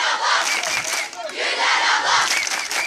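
Youth camp crowd cheering and shouting together, loud and sustained across the whole stretch, swelling and dipping slightly in waves with no clear single voice standing out.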